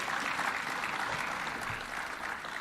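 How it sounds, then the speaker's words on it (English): An audience claps steadily for the Chancellor at a formal ceremony, a dense, continuous wash of applause that stays loud and even throughout. "Another round of applause for the Chancellor"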